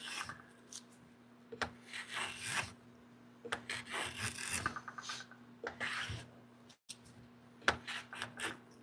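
Hand plane shaving soft cedar fence-picket stock on a workbench, a series of close, rasping strokes of a second or so each, separated by short pauses, over a steady low hum.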